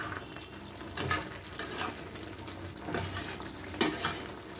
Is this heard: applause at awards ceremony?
no